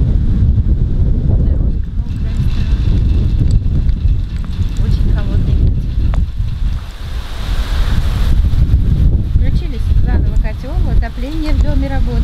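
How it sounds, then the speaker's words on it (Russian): Cold outdoor wind during a May snowfall, blowing as a loud, steady roar through the whole stretch with gusty low rumble, while a person talks over it. "И ветер холодный."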